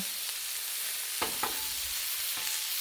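Hot dogs sizzle on a seasoned griddle in a steady, close hiss, broken by a few short taps and scrapes as they are turned.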